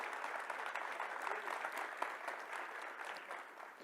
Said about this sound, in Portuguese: Um aplauso pela vida desse moço